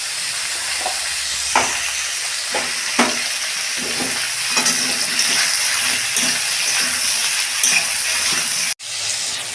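Ridge gourd, potato and eggplant fry in oil in a pan for a fish curry, with a continuous sizzle and a spatula stirring and scraping at irregular intervals. No one speaks, and a sharp cut comes near the end.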